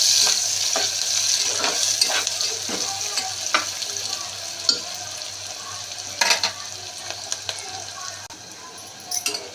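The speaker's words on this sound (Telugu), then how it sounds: "చిల్లీస్, ఇది కొద్దిగా ఫ్రై అవ్వనివ్వాలి" Chillies frying in oil in a pan for a broiler chicken curry, a steady sizzle with scattered sharp clicks and scrapes from stirring, strongest near the end.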